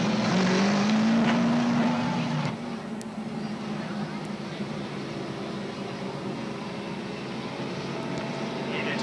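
Race cars on a speedway track roar past at a slow pace-car speed, a loud steady engine drone with a rising engine whine early on and a race announcer talking over it.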